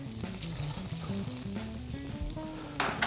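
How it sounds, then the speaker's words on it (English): Shallots sizzle in a hot pan for squid ink risotto with shrimp, a steady soft frying hiss beneath a melodic music bed, swelling brighter and louder near the end. "We're going to throw our shallots in and just sort of start to cook those through"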